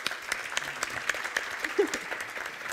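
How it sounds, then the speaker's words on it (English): Audience applauding conference panelists at the AIBC Summit in Malta, a steady wash of many hands clapping at moderate distance with a few sharper claps standing out, ongoing for the whole stretch. "Let's give a round of applause for our panelists."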